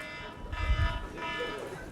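A classic alarm buzzer marks the end of a 60-second drawing timer at a tech conference session, sounding steadily for about two seconds with a harmonic, droning tone.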